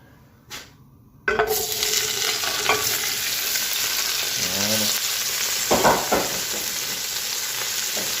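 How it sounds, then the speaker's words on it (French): A steady, loud sizzle starts abruptly as leeks hit hot olive oil, continuing as frying with occasional stirring scrapes, close up and with no talking. "on va mettre un peu d'huile d'olive et on va mettre les poireaux à cuire"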